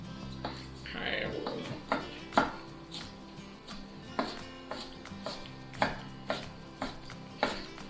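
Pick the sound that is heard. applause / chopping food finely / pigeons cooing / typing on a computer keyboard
chopping food finely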